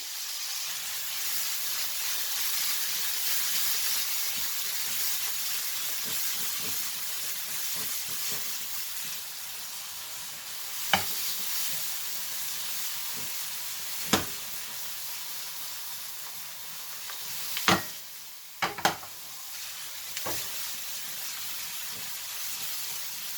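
Chicken and mushrooms sauté in a pan on high heat, giving a steady close sizzle and hiss with a few sharp clinks of stirring scattered through.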